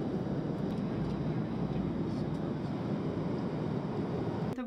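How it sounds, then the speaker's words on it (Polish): Steady airplane cabin noise during a flight from Germany to Japan: a continuous broadband rumble and hiss at even loudness throughout, with a brief sharp sound near the end. "Tu już jesteśmy typowo w samolocie do Japonii."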